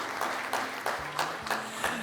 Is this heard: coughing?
no